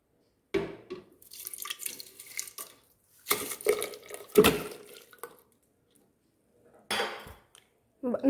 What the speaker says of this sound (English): Now let's mash 2 bananas with a fork.